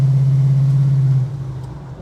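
A Holden HK engine idles with one cylinder down, giving a loud, low droning rumble that holds steady and then drops off in level partway through, with no talking.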